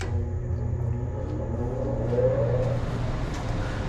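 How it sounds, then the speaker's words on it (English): A shop exhaust fan runs with a low, steady mechanical hum and a faint whirring tone on top, fairly quiet and unchanging throughout. "I am very impressed with how quiet the exhaust fan is."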